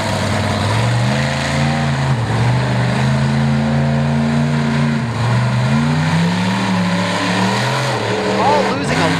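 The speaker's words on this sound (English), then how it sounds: "These guys are great big swamp buggies today, just out there skating around the track" Big swamp buggies race around a dirt track, their engines droning loud and close with a rising and falling pitch as they accelerate and ease off, while an announcer talks over the roar.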